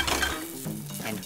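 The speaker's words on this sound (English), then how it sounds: "give that a little stir" Rocket leaves wilting in a hot pan for a very light, quick sauté, a soft sizzle with a brief stirring rustle over about a second, close and alone.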